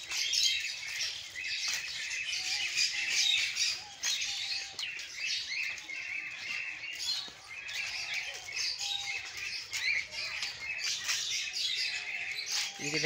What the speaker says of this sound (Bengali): এখানে বিভিন্ন রকমের পাখি রয়েছে।